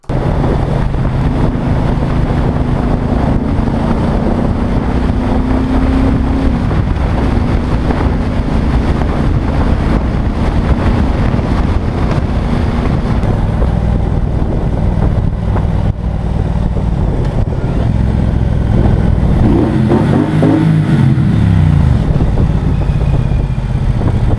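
A Triumph Bonneville Bobber engine drones steadily while riding along a road, heavily buffeted by wind noise, with the engine note shifting as it changes speed near the end.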